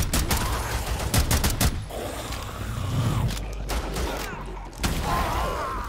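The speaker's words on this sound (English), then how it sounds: "I kill more things just spamming my rifle" Rifle gunfire in Rainbow Six Siege, rapid bursts of close shots cracking in quick succession at the start, then scattered single shots and mechanical clatter over a busy game background.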